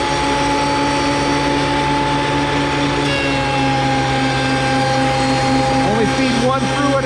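Thickness planer cutting wood boards for night stand door rails and stiles, a loud steady machine roar and whine throughout with a constant hum, continuous and close.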